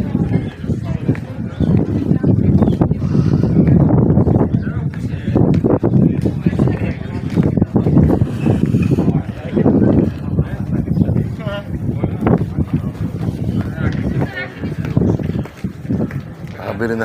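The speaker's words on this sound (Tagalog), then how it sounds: "Ay, mahangin, no?" Strong wind buffets the microphone at the Santorini caldera, a loud, continuous roar with rough gusts that runs throughout while people talk and tourists move about nearby.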